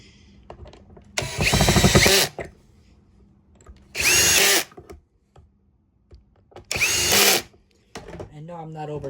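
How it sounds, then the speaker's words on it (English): Power drill run on second speed while reassembling a Eureka Airspeed vacuum, three loud whirring bursts of about one second each, separated by quieter handling noises and brief talk. "I just have it on the second speed, so that's why it's making all that loud noise. The drill."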